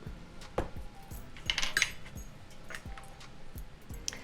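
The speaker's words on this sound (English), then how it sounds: "I'm going to take some of that barbecue sauce and I'm just going to squirt it in there and mix it around." A utensil mixing barbecue sauce into chicken in a bowl, soft repeated clinks and scrapes at a steady pace with a brief metallic rattle in the middle, close and quiet with no speech.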